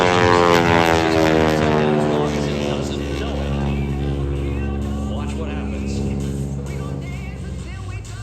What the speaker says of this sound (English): Oh, you hear that engine? There it goes. That's the flaming restart.